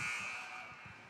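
Final horn sounding at the close of a Minnesota girls' high school hockey game, a loud steady blaring tone that fills the whole short moment, echoing through the arena.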